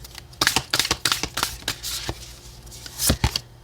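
A deck of oracle cards being shuffled by hand, a close, quiet series of rapid riffling and slapping bursts with brief pauses between them.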